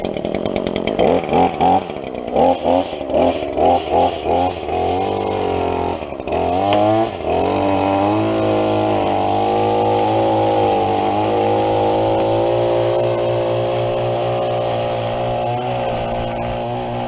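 A small petrol lawn mower engine sputters and surges in uneven bursts, then settles into a loud, steady running drone once the choke is off.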